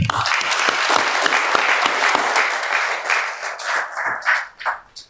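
A ceremony honouring late advocates fills with dense audience applause that holds steady, then breaks into scattered claps and fades out.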